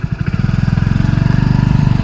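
A motorbike engine hums close by while riding two-up, a steady rapid low putter throbbing evenly throughout with no voices over it.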